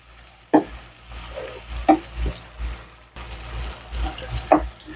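Onions cooking down with masala in a pan for egg masala, with scattered stirring scrapes and soft sizzling over a low steady hiss, fairly close.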